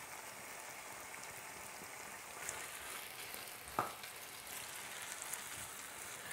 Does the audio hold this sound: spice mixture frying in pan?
yes